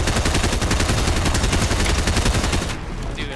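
Rapid automatic gunfire from a gun in a shooting video game runs loud and continuous for nearly three seconds, then cuts off and leaves a quieter tail.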